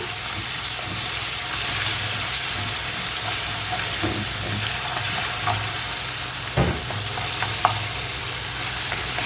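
Steady frying sizzle of garlic and tomato paste with soft scraping and stirring sounds, a spoon clinking against the pan now and then.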